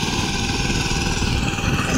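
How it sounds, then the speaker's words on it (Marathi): A tractor engine runs steadily near a well-side pump in a Konkan paddy field during rice planting, a continuous close, loud droning rumble with no pauses or voices. "ट्रॅक्टर सुरू आहे"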